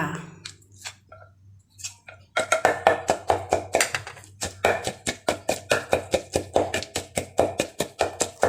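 Steady rhythmic pounding of a pestle in a mortar, crushing shallots, makhwaen pepper, peppercorns and shrimp paste for a northern Thai curry paste; close, loud regular thuds after a few scattered taps, with no talk.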